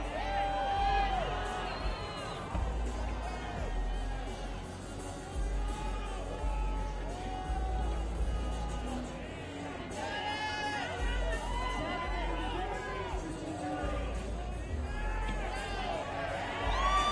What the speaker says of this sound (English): Crowd very vocal in their support.